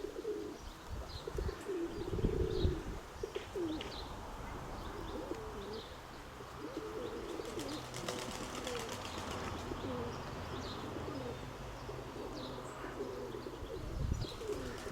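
Pigeons coo softly and repeatedly against a steady outdoor background, with occasional faint chirps from other birds and a brief flutter of wings.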